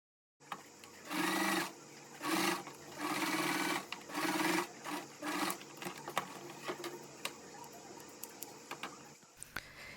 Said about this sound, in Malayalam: ഇനി ഇതേ സെയിം തന്നെ നമുക്ക് ലൈനിങ്ങും കൂടി ഇതുപോലെ തന്നെ സ്റ്റിച്ച് ചെയ്ത് കൊടുക്കണം.